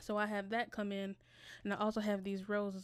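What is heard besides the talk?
No everyday noises stand out.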